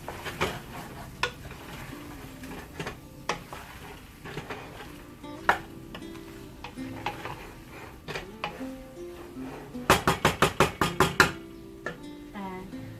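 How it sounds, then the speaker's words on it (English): Egg and potato curry stirred in a pan, with a spoon knocking and scraping the metal in irregular taps, ending in a quick burst of rapid clanks; a faint sizzle sits underneath. "Now mix it properly."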